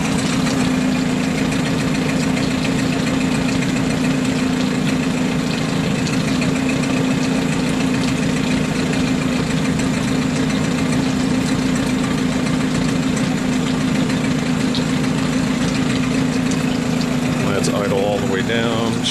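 A small engine idles with the choke in and throttle down, a loud steady drone with a low hum running throughout and a short voice near the end.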